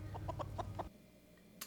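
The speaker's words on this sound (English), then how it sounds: "A chicken? Feral ghoul can't abide a chicken." Several short clucks from a chicken in a quick run, fairly close, in a scene from the Fallout TV series, then a brief quiet stretch ending in a sharp noise.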